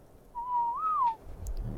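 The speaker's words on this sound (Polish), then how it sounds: "Cały czas gwizdam." A single person whistles one clear, near, sliding note that rises briefly and falls again, alone over faint background noise, inside ARK: Survival Evolved.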